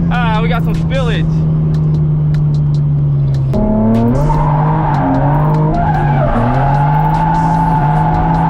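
A car drifting on a street, tires skidding and squealing loudly over a steady engine drone, with shrill squeals early on and a rising, wavering howl later; a person talks over the noise.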